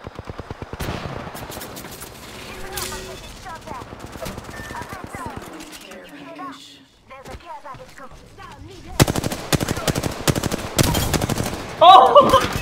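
Apex Legends gunfire: rapid bursts of automatic weapon shots, fairly loud and close, interrupted by a brief pause and picking up again densely near the end, with in-game effects and some speech in the mix.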